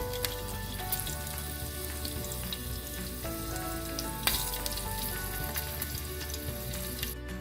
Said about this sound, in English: Our green chilies are nice and fried. You don't want to burn it, so I've been doing this on low flame.